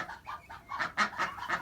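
Young chickens raised over winter cluck in a rapid run of short, close calls on a farm, about eight quick bursts in under two seconds, with no voices.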